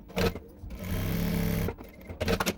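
Sewing machine stitching tucks on a princess-cut blouse: a short whirring burst, then a longer steady run of rapid stitching, and another brief burst at the end, close and loud with no talking.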